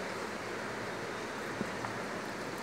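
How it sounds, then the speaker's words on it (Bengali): Water pours onto the soil of a potted kitchen-garden plant, making a steady, even rushing wash with no breaks, heard close and alone. "এবার মাটিটা আমি জল দিয়ে দেব"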